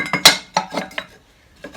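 Plastic parts of a Bosch AXT 2000 HP garden shredder click and clack together as they are reassembled, a few sharp close knocks followed by a brief pause and one more tap.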